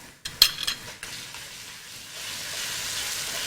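Ginger-garlic paste hits browned onions in a pan for a mixed-vegetable dish, starting with a few sharp utensil knocks and a spoon scrape, then settling into a soft, steady sizzle that slowly grows.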